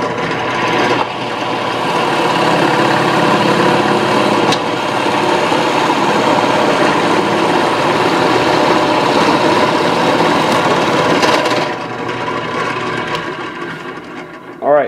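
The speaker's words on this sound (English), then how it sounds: "Let that return, and then we're going to drill this out." A power drill bores through a PVC quadrant marking jig, giving a steady, loud whirring drone that runs nearly the whole time, then drops off near the end.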